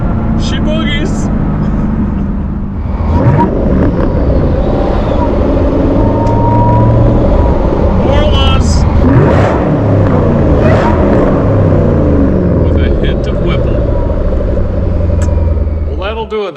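A 2011 Shelby GT500 with a 750-horsepower Whipple supercharger drives spiritedly, its engine rumbling and revving loudly and close, with a voice talking over it at times.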